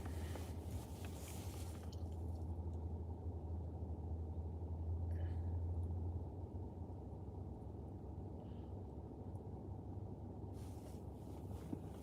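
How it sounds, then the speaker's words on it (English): Heavy trucks clearing snow on a snowy day, a steady low rumble that holds throughout, loud and continuous, with wind noise over the microphone. "We got the trucks over here cleaning it"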